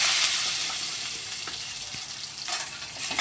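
Cut potato and papaya hit hot oil and fry in a dense, hissing sizzle near the pan, with a few light stirring scrapes and a brief swell of crackle toward the end.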